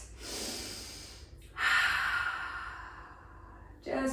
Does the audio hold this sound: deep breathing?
yes